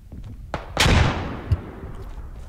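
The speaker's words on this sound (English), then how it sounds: "Je balance une grenade." A grenade goes off in the video game Beyond The Wire, one loud close blast with a decaying rumble, followed by a thump and scattered faint in-game noise.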